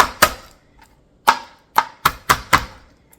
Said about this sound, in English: Okay, gonna mince 3 cloves of garlic.